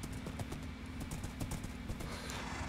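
Horse hooves in the video game Minecraft clip-clop in a quick, steady trotting rhythm, faint and continuous, with no speech over them.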